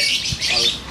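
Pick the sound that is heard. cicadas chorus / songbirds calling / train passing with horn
songbirds calling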